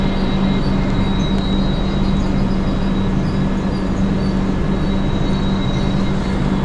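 A train rumbles steadily at the small Daroji railway station near Hampi, a loud continuous low roar with a faint high whine running throughout and no speech.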